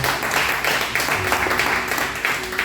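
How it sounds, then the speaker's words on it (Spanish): Congregation applauding at a Spanish-language church worship service: dense, steady clapping from a crowd that fills the whole moment without a break, fairly loud and close. "Dale un fuerte aplauso al Señor."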